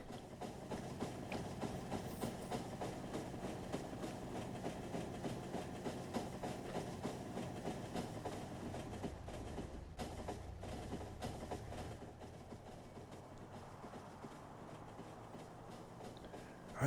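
Trains rolling along in the factory-building game Factorio, a steady mechanical rumble with faint rhythmic clatter, moderately loud and continuous, easing slightly in the final seconds.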